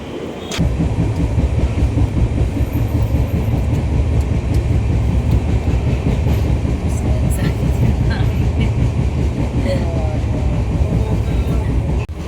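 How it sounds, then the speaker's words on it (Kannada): A train pulls into a railway station at Yeshwantpur, giving a loud, continuous rumble and rattle of cars that lasts throughout, with faint crowd sounds mixed in. "ಬಂತು ನಮ್ಮ ಟ್ರೈನ್ ಬಂತು"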